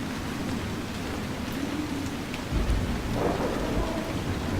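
Dense, heavy rain pours steadily while deep thunder rumbles in about halfway through, low and rolling, in the video game Dragon Age: Inquisition.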